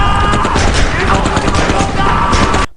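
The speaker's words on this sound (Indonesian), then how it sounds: "Pasukan Jepang yang berada di belakang kelompok Chang Yi dan Byung Chun mulai menembaki mereka semua." Japanese troops open fire in a Korean war-film scene, with dense, continuous gunfire and loud rapid crackling bursts lasting almost three seconds before stopping abruptly.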